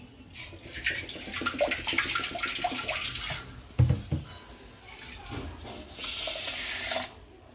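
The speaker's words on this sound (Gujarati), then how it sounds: "આમાં થોડુંક પાણી નાખી અને કળથી ડૂબે એટલું પાણી નાખી દેવાનું" Water runs from a tap into a pot of washed horse gram, a steady splashing stream that stops briefly with a knock of the pot near the middle and then resumes before cutting off.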